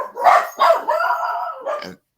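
Dogs bark loudly and close by, giving three or four sharp barks with a drawn-out, howling bark in the middle and nothing else heard.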